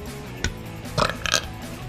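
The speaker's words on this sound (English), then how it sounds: "Nobody knows that I can burp on command." A woman burps on command, producing one short low belch followed by a couple of brief gurgling bursts a moment later, close and fairly loud against a quiet background.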